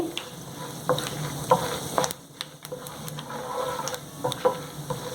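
Chana dal, urad dal and cumin fry in hot oil for an ivy gourd chutney tempering, with a steady close sizzle, sprinkled with sharp pops and the occasional scrape of a spoon stirring.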